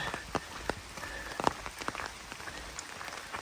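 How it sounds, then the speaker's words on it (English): Steady rain patters nearby, with scattered heavier drops tapping sharply on a surface over a constant soft hiss. "I guess you can hear it raining"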